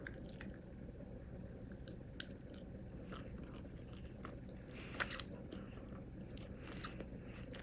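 Someone bites into and chews a chocolate-coated peanut butter ball, giving soft, faint, moist chewing and squishing sounds over a quiet background.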